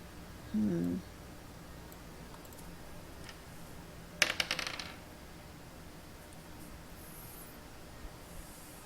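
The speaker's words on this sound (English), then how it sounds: "Don't like hearing that noise. stop rolling dice" Dice rolled on a table during a Curse of Strahd tabletop session: a brief, close cluster of clattering clicks as they tumble and settle, standing out against a quiet room.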